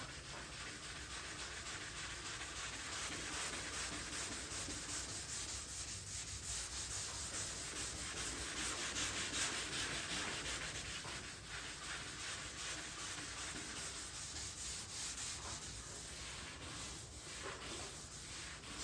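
A sanding block rubs across 3M finishing glaze on the body of a Datsun 280Z, producing a steady, continuous close scraping hiss that barely changes for the whole stretch, with no voices.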